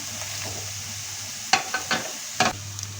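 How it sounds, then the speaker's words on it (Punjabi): Stuffed bitter gourds (karela) fry on a medium flame with a soft, steady sizzle, broken by a few sharp scraping stirs and turning sounds. "ਫਲੇਮ ਮੀਡੀਅਮ ਕਰਕੇ ਇਹਨਾਂ ਨੂੰ ਫਰਾਈ ਕਰਾਂਗੇ"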